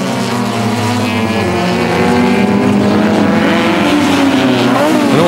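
Race cars accelerating hard off the hairpin at Pukekohe, several running nose to tail, a loud continuous engine roar with rising harmonic sweeps as the cars pass close by.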